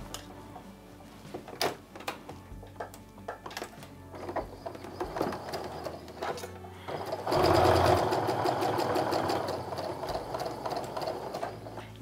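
A sewing machine stitches quilt pieces for a maple leaf log cabin fall quilt, its needle set to the center position, running in short stop-start bursts and then a longer, louder run near the middle, close up with no talking.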